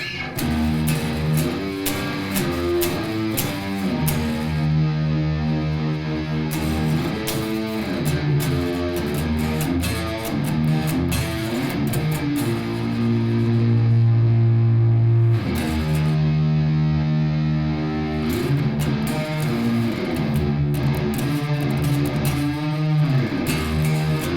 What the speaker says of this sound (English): So now we've got the guitar monitored through the monitors in the control room, and we find our tones.